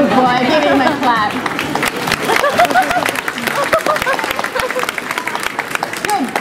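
Audience clapping for a performing dog at a dog lovers show, a steady wash of applause mixed with crowd chatter and a voice talking over it.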